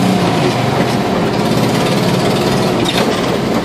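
1966 Volkswagen Fusca 1200 (Beetle) engine idling, a loud, steady, even air-cooled rumble heard up close with no break.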